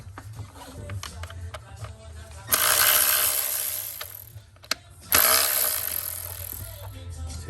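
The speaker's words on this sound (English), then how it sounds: "There's two more bolts on the here. I want to take those out." A hand ratchet works bolts loose from the water pump on an Audi A3 2.0T TFSI, with rapid clicking under two long stretches of steady ratcheting, close and fairly loud.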